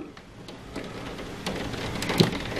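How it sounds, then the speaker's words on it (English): Heavy thunderstorm rain with large drops drumming on a roof in Bradford, UK, a steady dense patter that builds slightly louder toward the end with a sharper impact near the close. "Just seen some big hailstones or big raindrops. They're huge. Bouncing off the roof."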